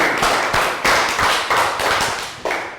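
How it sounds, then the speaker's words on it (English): Round of applause closing a Year 3 social studies lesson, a short burst of hand claps with a few sharp accents, loud and close with no talking over it. "Round of applause."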